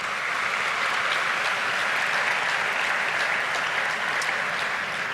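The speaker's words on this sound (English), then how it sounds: "We can clap for that." Dense, steady applause from a large audience at a student alcohol-awareness talk, many hands clapping together in a continuous loud wash with no voices over it.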